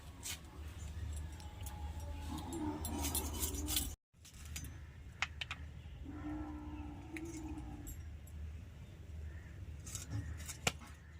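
Knife cutting through a whole rohu-type carp into three thick pieces for a cauliflower fish curry, with repeated soft chopping and scraping clicks against a board or plate, close up, with no talk over it.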